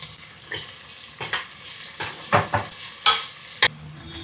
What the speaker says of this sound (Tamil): வெங்காயம் இந்த அளவு வதங்கினா போதும்.